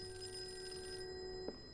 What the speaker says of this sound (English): Telephone.